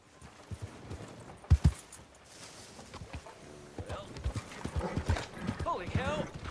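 A horse's hooves clip-clop in the Red Dead Redemption 2 video game, with irregular thuds and a whinny near the end, all under someone talking.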